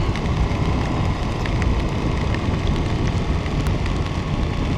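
Steady rain patters densely and evenly all the way through, a constant close hiss with scattered droplet ticks and no voices, falling during a wet-weather test of a Richa Armada Gore-Tex Pro motorcycle suit.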